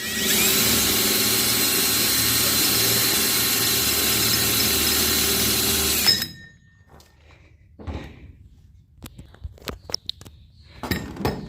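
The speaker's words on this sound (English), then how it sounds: "I had to go ahead and start and get the 1/4 inch hole drilled first." Power drill boring a 1/4 inch hole for a cockpit vent, a loud steady whining motor drone for about six seconds that stops abruptly, followed by scattered clunks and handling knocks.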